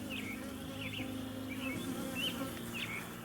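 Honey bees swarm out of a freshly opened beehive, a dense continuous buzzing hum close by, with a few higher tonal chirps riding over the drone throughout.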